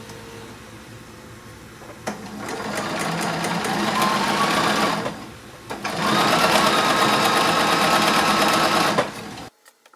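A sewing machine runs loud and close as quilt border strips are attached. It makes two long, steady stretches of stitching with a short pause between them, then stops abruptly.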